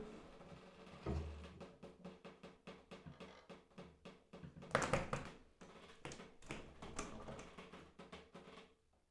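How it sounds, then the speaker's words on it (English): Water drips from a hotel shower onto the bathroom floor in a steady run of soft, evenly spaced taps, close and quiet, with a brief louder clatter midway. "Just dripping from the shower."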